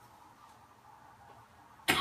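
A single sharp cough from a traveling sarod master breaks a long quiet stretch near the end, loud and close after faint room hum.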